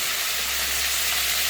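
Fish frying in hot oil in a wok, giving a steady, dense sizzle that runs the whole time with no talk over it.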